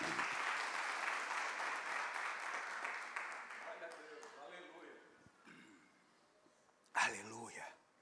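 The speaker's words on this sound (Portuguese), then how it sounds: "Vamos aplaudir o Senhor, queridos." A church congregation applauds during a Portuguese-language service, dense clapping fading over several seconds before a voice speaks near the end.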